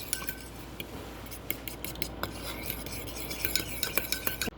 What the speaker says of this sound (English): we're gonna mix it until completely combined